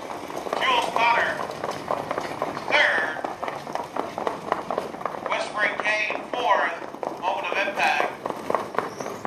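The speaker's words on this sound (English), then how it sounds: "As they come to the finish line, Egomaniac picking up the win" Racehorses gallop toward the finish line at the Humboldt race meet, their rapid hoofbeats pounding beneath a race announcer's continuous, excited calling.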